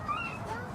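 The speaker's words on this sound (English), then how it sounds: "That's just a puppy dog." A puppy gives a short, faint whimper, a thin high whine over quiet background murmur at a zoo, aquarium and safari park.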